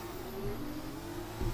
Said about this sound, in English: Car sounds good though, I'll give it that much.